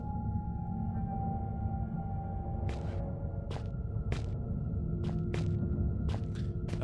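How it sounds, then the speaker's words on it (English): Short Morse code beeps sound in irregular groups over a steady low drone, the tones clear and moderately loud against the background hum in an audio drama. "Morse code beeps and boops."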